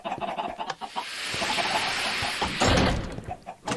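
Chickens in Minecraft cluck in short, close bursts, with a dense, rustling stretch of game noise between the calls.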